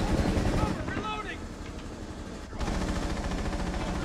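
Dense, continuous gunfire from Rainbow Six Siege in a Terrorist Hunt round on the Consulate map: a loud, sustained barrage with a short dip near the middle, and a voice faintly under the shooting.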